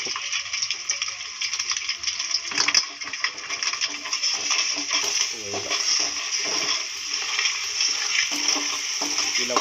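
Beaten egg sizzling and being stirred in hot oil in a pan for egg fried rice, with crackling frying noise, scraping and clinks of a utensil against the pan, fairly close and continuous.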